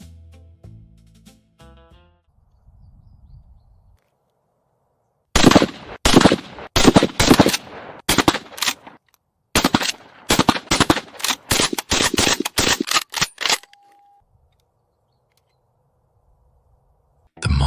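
Rapid pistol gunshots crack in a fast, irregular volley of sharp reports, loud and close, lasting several seconds after a quiet stretch of faint tones and then stopping abruptly.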